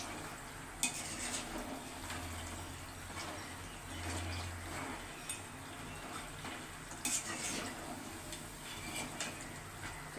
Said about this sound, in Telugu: సో అంతవరకు మాత్రం వీటిని ఫ్రై చేస్తూనే ఉండాలి. మీడియం ఫ్లేమ్లోనే ఫ్రై చేసుకోవాలి.